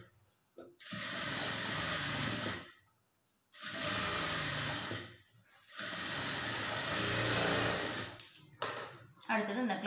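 A sewing machine top-stitches a blouse lining in three long, steady whirring runs separated by brief pauses, with a short stuttering burst at the end.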